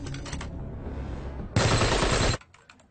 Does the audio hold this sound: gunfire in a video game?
yes